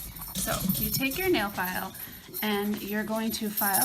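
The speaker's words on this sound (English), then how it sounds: "again, I apologize about the dogs." Pet dogs whimpering and yipping softly in the background of a home nail-polish removal session, faint and intermittent beneath someone talking close up.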